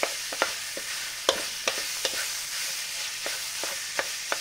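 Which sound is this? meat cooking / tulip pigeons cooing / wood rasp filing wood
meat cooking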